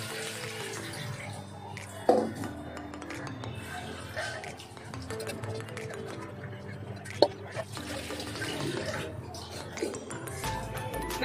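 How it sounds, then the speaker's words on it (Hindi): Water runs and drains out of soaked rice held in a kitchen strainer: a steady wet splashing and trickling that lasts throughout, with a few sharper drips and clinks along the way. "अभी चावल को स्ट्रेन कर देती हूँ, सारे पानी निकल जाएंगे"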